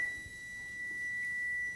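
A kitchen timer sounds one continuous high-pitched electronic beep, steady and fairly clear, with faint room noise beneath.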